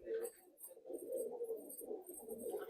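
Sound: Madrasi pigeons cooing

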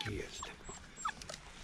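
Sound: puppies whimpering and yipping

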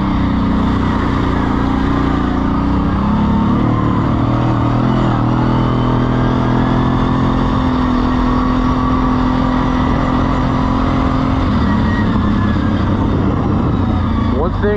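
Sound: quad ATV engine while riding up a trail

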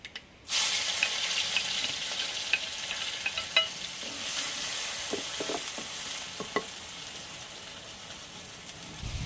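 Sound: crushed shallots frying in oil after mustard seeds popped

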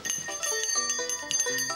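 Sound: ringing of a soul-summoning bell

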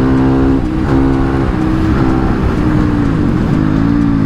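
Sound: Honda CRF450 supermoto motorcycle engine

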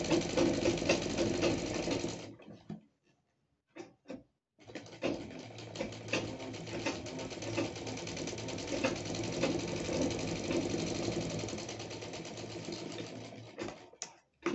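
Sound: sewing machine stitching organza puff sleeve

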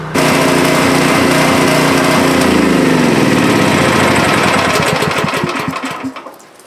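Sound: gas generator running

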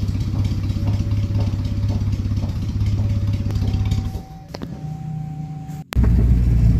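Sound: Suzuki Carry ST-100 engine running after piston ring replacement

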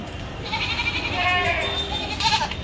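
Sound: goat bleating

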